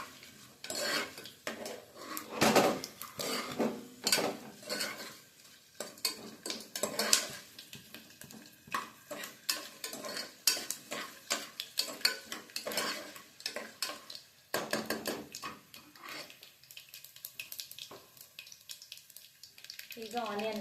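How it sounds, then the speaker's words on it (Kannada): A spoon scrapes and clatters against a pan while peanuts fry for bisibele bath, irregular close stirring strokes over a faint sizzle, with someone talking now and then. "ಶೇಂಗಾ ಚೆನ್ನಾಗಿ ಫ್ರೈ ಆಗಬೇಕು."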